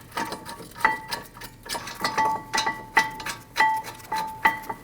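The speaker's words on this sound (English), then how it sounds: "install your 2 18mm bolts" Ratchet driving the two 18mm caliper mounting bracket bolts on a 2013-2019 Ford Escape during a front brake job, heard as repeated close clicking bursts in a steady rhythm with metallic ringing, no talk.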